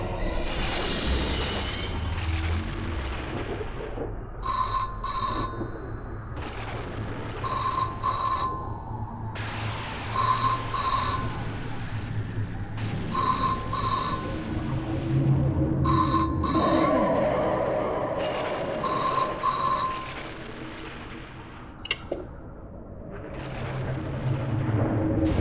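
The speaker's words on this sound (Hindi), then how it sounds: "लगता है फोन की घंटी बज रही है।" A telephone bell rings in regular bursts, about six rings spaced a few seconds apart, clear and fairly loud over a low background rumble.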